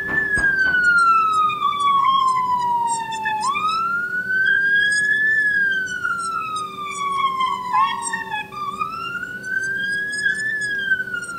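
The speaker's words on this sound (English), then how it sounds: "the siren exists on its own layer." A wailing emergency siren isolated from its background, its pitch sweeping slowly up and down in long loud rising and falling cycles with overtones, a few abrupt jumps in pitch, and a faint steady hum underneath.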